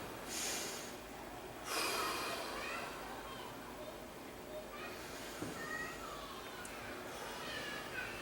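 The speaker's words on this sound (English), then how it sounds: "take a deep breath, and blow it out" A group of people take deep breaths and blow them out in several broad, soft exhalations that rise and fade across a quiet room. No voices are heard between the breaths.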